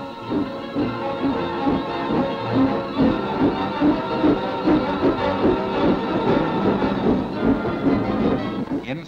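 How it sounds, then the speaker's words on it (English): A steam train pulls slowly out of a station, with a loud, continuous rumble of rhythmic chuffing and rolling wheels that carries steadily throughout. "the train steams slowly from the station"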